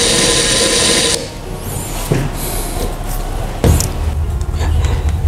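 A Makita TW004G 40V cordless impact wrench runs with a loud, dense whirring burst for just over a second, followed by quieter mechanical clatter and knocks close to the microphone.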